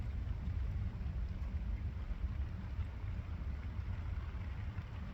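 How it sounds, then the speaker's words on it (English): Steady, soft rain patters outdoors with a low, continuous rush and no voices. "That's rain."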